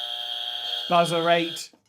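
An electronic quiz buzzer gives a steady, sustained tone and then cuts off as a voice speaks over it, during an online quiz about railway stations.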